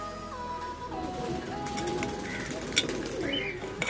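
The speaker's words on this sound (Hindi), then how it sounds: "चलो अभी कबूतर को रख के दिखा रहा हूँ ये किस तरह खाते हैं, देख लो।" Pigeons being fed crumbled roti give soft low coos near at hand, with a few brighter chirps and small knocks breaking in over a quiet background.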